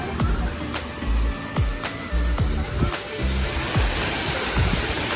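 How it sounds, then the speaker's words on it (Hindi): Sai Yok Noi waterfall in Kanchanaburi, Thailand, gives off a loud, continuous rushing roar of falling water, with faint rhythmic low thumps underneath. "So now we have arrived at Sai Yok Noi waterfall."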